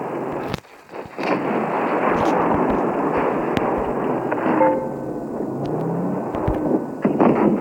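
Tank cannon fire in World of Tanks, with a KV-1S in battle: a sharp blast followed by a long rumbling roar of engine and battle noise, loud and close, with a few further thuds and pings.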